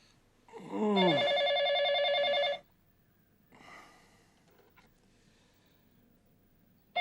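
A telephone rings late at night in a home: one long, loud bell trill, then silence broken by a faint sigh or breath and the start of another ring.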